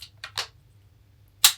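Bolt of a Russian small-bore rifle worked by hand, giving a few quick, crisp metallic clicks and clacks in a short burst, then a brief pause and one louder sharp clack, close and alone over a low hum.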